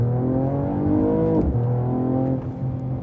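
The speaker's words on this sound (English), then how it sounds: "I'm going to brake boost it and go." A 2021 Mercedes-AMG E53 4Matic+ Coupe is brake-boosted and launched, its engine droning loud and steady before a sharp gear change drops the pitch and it pulls hard again.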